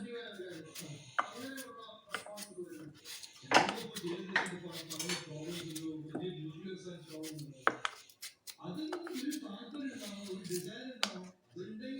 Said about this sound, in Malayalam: ഇനി ഒരേ കനത്തിൽ നമുക്ക് ഈ മാങ്ങ ഇതിനകത്തോട്ട് അരിഞ്ഞിട്ട് കൊടുക്കാം നീളത്തിൽ